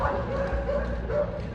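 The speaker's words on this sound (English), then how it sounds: "you can hear the dogs barking" Several dogs at an animal shelter in Los Llanos, La Palma, bark and yip continuously at a distance, blending into a steady, echoing chorus.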